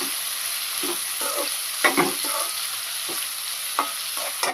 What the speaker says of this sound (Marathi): कांदा चांगला गुलाबी रंगावर परतून घ्यायचा आहे